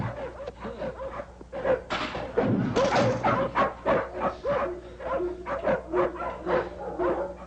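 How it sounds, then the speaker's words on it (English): Dogs snarl, bark and yip from kennel cages in a busy, overlapping chorus, loud and close, with occasional thumps as the cages are climbed over. "they climb over cages of snarling dogs"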